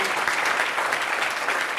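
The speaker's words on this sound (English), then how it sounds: "We can applaud again, Professor Thalmann." At a talk on humanoid robots, a seated audience claps in a dense, uniform round of applause that holds steady throughout, moderately loud and close.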